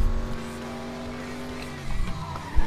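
Race cars in the FlatOut 2 video game roar steadily at close range, engine tones rising and shifting, with tire squeal and scraping near the end.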